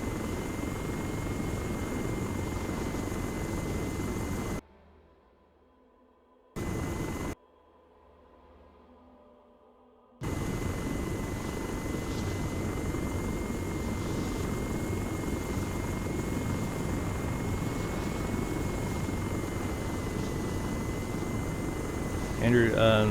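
A helicopter in the Arma video game drones with a steady rotor and engine hum throughout, briefly cutting out twice before returning; someone talks over it.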